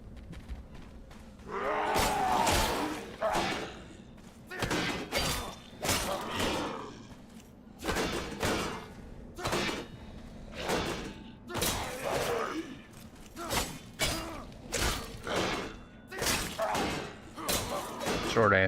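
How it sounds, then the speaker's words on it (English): Repeated melee weapon strikes on an enemy in the fantasy survival game Enshrouded, a long run of heavy thuds, whooshes and crashing impacts in an uneven rhythm, with a voice speaking now and then between the blows. "See how long it would take to kill this guy with a melee weapon."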